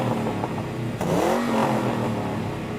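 Mustang engine revving at a Mustang drag race gathering, a loud continuous roar with a sharp rising surge of revs partway through, close by.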